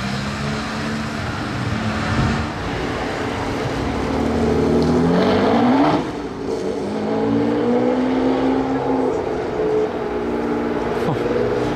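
A Bugatti Veyron engine roars steadily and revs upward at a Monaco supercar rally, loud and close, its pitch climbing before settling back into a sustained growl.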